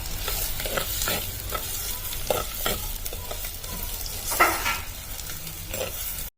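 Onions frying in a pan in a village kitchen, a steady close sizzle with repeated scraping strokes of a spoon stirring them, no voices.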